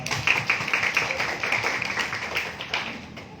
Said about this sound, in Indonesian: Bisa beri tepuk tangan untuk Mas Toman